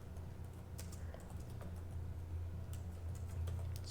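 Light, irregular key clicks tap out on a computer keyboard during data entry, a quiet close-up patter of keystrokes over faint background hum.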